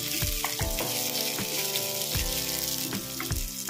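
Onions sautéing in a pan for mutton kuzhambu, a dense continuous sizzle with repeated rhythmic scrapes and clinks of a spatula, loud and close.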